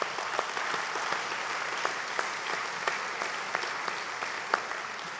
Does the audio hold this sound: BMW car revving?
no